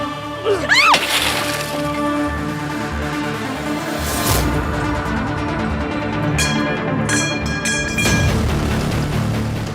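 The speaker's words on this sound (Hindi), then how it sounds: "अपनी गाड़ी का शीशा कौन तोड़ता है?" Car window glass smashed, a sharp shattering crash followed by crackling, tinkling fragments over a continuous backdrop of dramatic music, close and loud.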